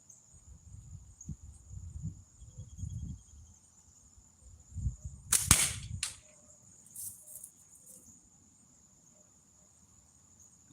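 A slingshot shot lands near a target, a single sharp thump midway through that stands out over steady cricket chirping and low rustling outdoors.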